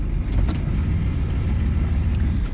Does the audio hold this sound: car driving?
yes